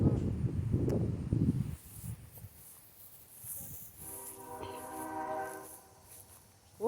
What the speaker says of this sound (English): Oh, there's a choo-choo train in there.